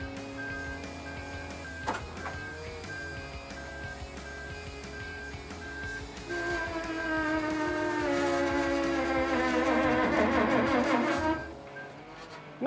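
A hooklift truck's hydraulics lower a freshly painted dumpster onto its rear and mid rails: a thin mechanical whine with a clunk early on, then a louder, rising tonal groan that swells for several seconds before cutting off.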